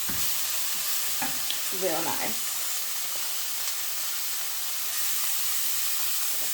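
Vegetables, baby corn and prawns fry in a pan with sauce, giving a steady sizzling hiss throughout, with a few brief scraping stirs and a short spoken remark.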